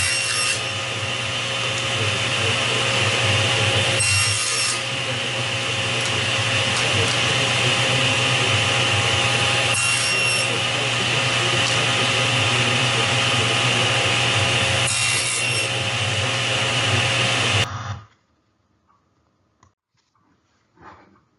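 A saw cuts slots in wooden stock for a jewelry box in two passes, a continuous loud whirring grind with brief dips as the piece is fed, then stopping abruptly into near silence.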